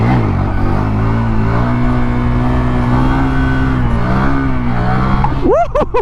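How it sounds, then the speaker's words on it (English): A 2022 Honda Grom motorcycle engine drones loud and close in a steady buzzing tone while held up on a wheelie, then revs sharply upward near the end. "Can the 2022 Grom wheelie?"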